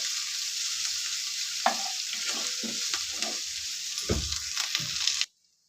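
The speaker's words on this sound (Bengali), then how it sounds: "ধনে পাতাটা দিয়ে দিচ্ছি, পুদিনা পাতাটা দিয়ে দিচ্ছি। হালকা এগুলো একটু নাড়িয়ে চাড়িয়ে নিচ্ছি। বেশি ভাজবো না, হালকা করে ভেজে নেব।" Coriander and mint leaves fry lightly in a pan while being stirred, making a continuous near sizzle broken by scraping utensil strokes and soft clunks, which ends abruptly in silence.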